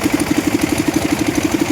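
A concrete mixer engine runs at a construction site during pillar and column concrete work, giving a steady, close idling chug with an even rapid pulse throughout.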